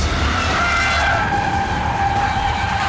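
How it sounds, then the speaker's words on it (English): A Porsche Taycan Turbo S electric car does a tire-squealing burnout, its tires screeching in a loud, steady, unbroken skid with no engine roar underneath. "We just did a smoker in a Porsche."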